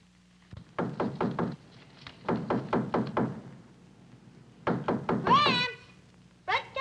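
Three quick bursts of several sharp knocks on a front door, each a tight cluster of raps with pauses between, fairly close, with a brief high voice cry near the end.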